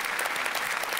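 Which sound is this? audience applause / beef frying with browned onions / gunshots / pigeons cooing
audience applause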